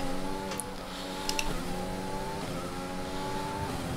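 A Mercedes Formula 1 race car engine from the racing game F1 2020 drones steadily at high revs, its pitch climbing through upshifts with brief dips between gears, loud and close with no voices over it.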